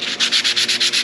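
Rhythmic back-and-forth sanding on a small aluminum bracket cut from scrap iron stock, steady scratchy strokes about every eighth of a second, close and loud with no talk.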